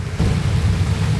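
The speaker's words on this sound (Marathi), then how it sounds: "मुसळधार पाऊस अकोल्यामध्ये." Heavy monsoon rain pours down in Akola, Maharashtra, a dense, steady roar with deep rumbling underneath, loud and continuous with no voices.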